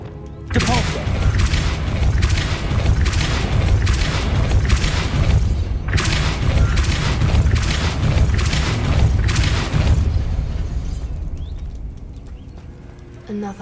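A Depulso spell cast in Hogwarts Legacy, heard as loud, dense blasts and rumbling booms that pulse steadily for about ten seconds before fading, with game voice lines mixed in.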